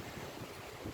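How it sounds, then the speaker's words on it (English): Strong wind buffeting a microphone outdoors beside a 1970 Starcraft V-hull jon boat, a dense, continuous roar with low rumbling gusts, loud and close, with no voices. "it's super windy right now."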